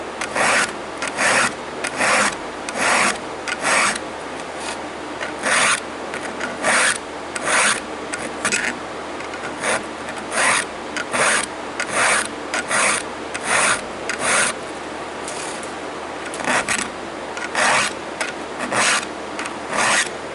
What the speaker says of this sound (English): it's always fun when you first start sharpening with a file